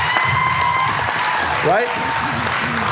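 A convention audience in Seattle breaks into brief applause during a talk, a short burst of clapping heard under a speaker's voice.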